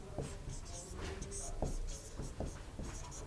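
A pen writing Pitman shorthand on paper, short scratchy strokes and taps repeating irregularly, heard close under a voice explaining.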